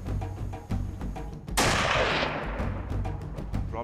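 A single sharp rifle shot cracks out loud and close on a South African hunting safari, its blast decaying over a couple of seconds amid outdoor background noise.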